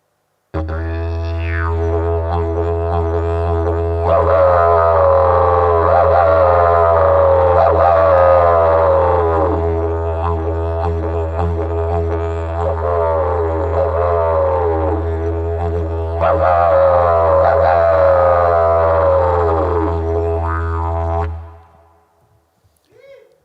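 A didgeridoo plays a deep continuous drone while the player voices rising and falling howls through it, imitating a dingo, the Australian wild dog, in two long howling passes before fading out.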